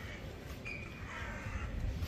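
Crows cawing in an urban park in Dublin among cherry blossoms, a few harsh calls over steady outdoor background noise, moderately distant, with no talk.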